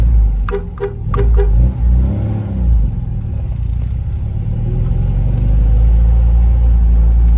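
A 1974 MG MGB Roadster engine rumbles loudly up close, idling with a few quick revs and then settling into a steady, throaty drone as the car pulls away.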